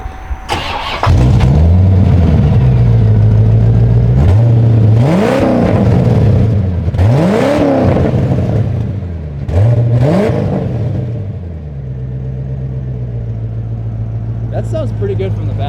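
Car engine with an exhaust leak revving repeatedly from the rear, loud rising and falling pulls over a rough idle, with a raspy, sputtering edge to the exhaust note.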